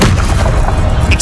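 Incendio fire spell cast in Hogwarts Legacy, a loud, dense burst of roaring, booming fire that holds steady for over a second with no pause.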